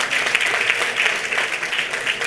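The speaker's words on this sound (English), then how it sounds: "Please give them a round of applause, sir." Brief burst of steady clapping from an audience, a busy patter of hands throughout.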